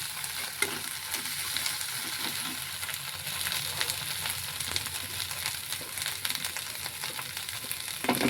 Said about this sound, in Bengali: সব মশলা ভালো করে ভেজে নিলাম।